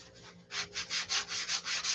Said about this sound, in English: All I've been doing all day long is sanding all these parts flat.